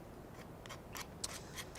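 Scissors cut a paper napkin, giving a few quick, crisp snips spaced irregularly. The cutting is close but quiet, with no talking.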